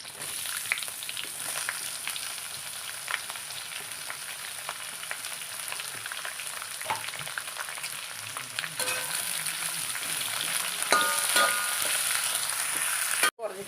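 Sliced onion frying with fennel seeds and curry leaves in hot oil for a curry, a continuous moderate sizzle with occasional stirring scrapes and a clatter at the end.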